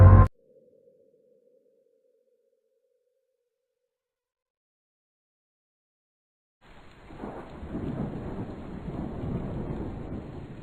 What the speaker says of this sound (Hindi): बिजलियां जोर जोर से गरज रही थी।